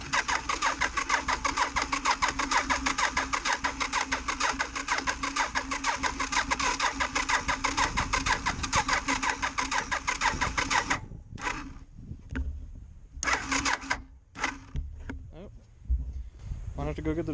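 A car engine cranks on its first start after new Shadow carburetors are installed, the starter churning in a long, steady, rhythmic whir before faltering into irregular bursts and gaps, with someone talking near the end.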